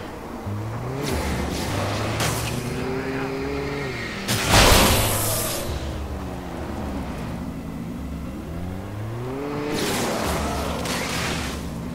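A car driven in Alan Wake, its engine droning and shifting pitch as it accelerates and settles, with a loud whooshing burst midway, steady and close throughout.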